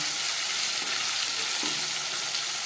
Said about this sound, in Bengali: মশলা মাখানো মাছগুলো কড়ার তেলের মধ্যে দিয়েছি দেখুন অনেকটাই ভাজা হয়ে গেছে